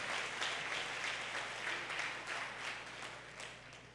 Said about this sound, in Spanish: Vamos a darle un aplauso a ese Padre Celestial